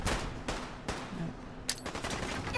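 Video game gunfire in Fallout 4 aimed at the player, several sharp broadband shots at irregular intervals, each a crisp crack over a low background, with a brighter shot near the end.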